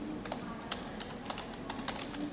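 Rapid, light keystrokes on a computer keyboard as a folder path is typed into a developer command prompt, an irregular run of close, quiet clicks with no talking.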